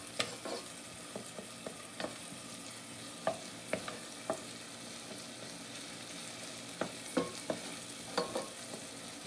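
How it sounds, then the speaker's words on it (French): Finely chopped onions sizzle softly in a pan while a utensil scrapes and stirs them now and then, giving quiet, irregular clicks over a steady frying hiss. "Donc je fais revenir les oignons."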